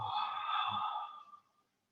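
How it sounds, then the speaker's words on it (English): One slow, audible breath out during a guided meditation, soft and close, with a short sniff near its start. The exhale fades gradually into silence. "Breathing out, letting go."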